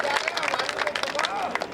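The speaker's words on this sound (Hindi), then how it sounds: "आप लोगों को अच्छा लगा हो मुक्तक तो एक बार जोरदार तालियां बजाइए।" Audience applause at a Hindi comic poetry gathering, a dense burst of many hands clapping throughout, with crowd noise and voices mixed in.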